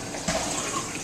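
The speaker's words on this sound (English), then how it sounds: "You get some hot water." Hot water runs from a kitchen tap in a brief, steady splashing gush, close and fairly loud.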